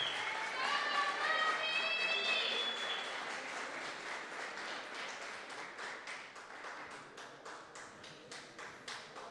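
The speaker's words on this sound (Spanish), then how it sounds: "Un aplauso bien fuerte a Katherine." Applause at a race awards ceremony, a crowd clapping with a rapid patter that thins into scattered individual claps, with a whistling tone and voices mixed in early on.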